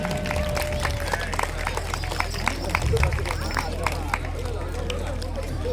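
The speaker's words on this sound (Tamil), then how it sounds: "நல்ல ஒரு கைத்தட்டல் கொடுக்கணும்." An audience claps at a prize distribution ceremony for an oyilattam dance event, a steady patter of many hands spread through the crowd under a voice on a loudspeaker.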